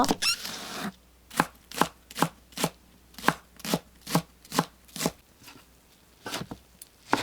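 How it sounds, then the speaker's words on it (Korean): A kitchen knife chops green onions on a cutting board for Korean seasoned greens: about a dozen separate, evenly spaced thuds, close and clear, following a short rustle. "파를 썰어 준비해요."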